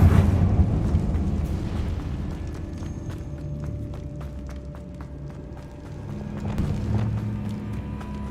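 A Bombarda explosion spell goes off in Hogwarts Legacy, opening with a heavy close boom that decays into a long rumbling tail, followed by scattered debris clatter and light footsteps, with no one talking.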